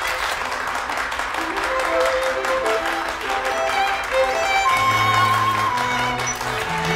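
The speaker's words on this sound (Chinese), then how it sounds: "感谢所有来宾，送上掌声" Wedding guests applaud in a steady wash of clapping that continues over melodic background music for several seconds.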